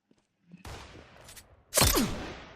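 Shotgun blasts in a video game, heard as a couple of sharp booming shots a second apart, the second louder and followed by a ringing decay, after a near-silent start.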